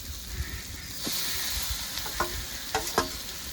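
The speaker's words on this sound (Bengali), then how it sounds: "মশলাটা কষানো হয়ে গেছে এবার বাঁধাকপিটা দিয়ে দেব" Cabbage goes into a pan of sizzling fried spice mix and is stirred, with a steady close frying hiss broken by a few scraping stirring knocks; nobody speaks.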